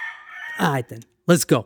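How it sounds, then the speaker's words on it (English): A pet rooster crows indoors, a drawn-out cock-a-doodle-doo heard close and moderately loud, followed by someone speaking briefly. "if you hear cockadoodles in the background, I'm sorry. I own a rooster now and he does what he wants."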